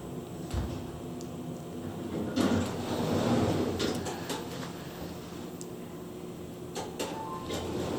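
Doors of a 2019 Schindler 3300 elevator at a mall furniture store slide shut with a steady mechanical rumble and a soft thud near the start, followed by quieter clicks and hum from the car.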